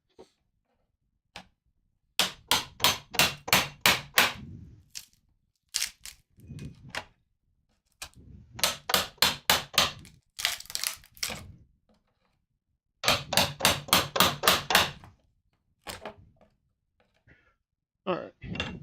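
Hammer blows struck in fast rhythmic bursts of several hits each while building a bellows, sharp and close, separated by short pauses with scattered knocks between runs.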